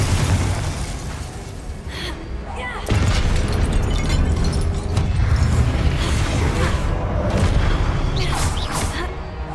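Confringo and Glacius spells burst and crack in repeated close, heavy booms during Hogwarts Legacy combat, with some mechanical clatter between them. Each new blast jolts the dense battle din louder.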